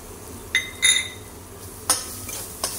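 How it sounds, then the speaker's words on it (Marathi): Samosa filling spices being stirred in a pan with turmeric, curry leaves and potatoes, sparse metallic clinks and scrapes of a spoon against the pan, a few separate taps over a quiet background. "हलवून घेऊया चांगला।"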